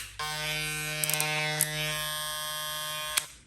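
A steady Super V electric hair clipper buzz runs for several seconds at close range, with a few faint clicks partway through, then cuts off.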